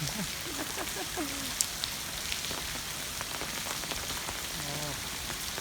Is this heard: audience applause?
no